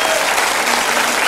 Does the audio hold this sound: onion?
no